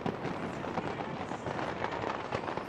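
New Year fireworks burst over a city at midnight, a dense continuous crackle and rumble of distant explosions filling the sky.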